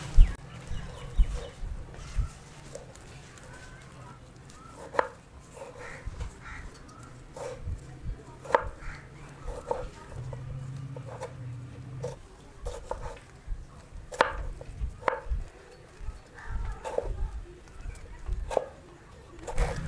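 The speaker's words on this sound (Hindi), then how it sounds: "अभी हम टमाटर काटेंगे बारीक बारीक" A knife finely chopping tomatoes gives sharp, fairly regular taps on a cutting board, close and moderately loud, over a quiet murmur of background noise.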